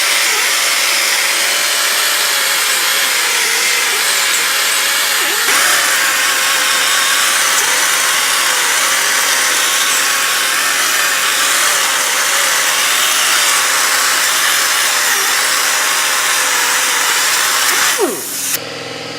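A whizzer wheel on a power tool polishes the gasket surface of a valve cover, a loud steady high whine with slight wavering pitch that runs continuously, then briefly dips and cuts out near the end.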